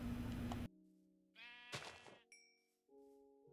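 Faint synthesized sheep bleat from Minecraft on Xbox, a short wavering tonal call in the middle of quiet game sounds, with a low thunk and a brief ding around it.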